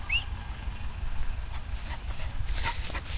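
A dog makes brief whimpering and scuffling sounds at close range over a low steady rumble, with a short high squeak near the start.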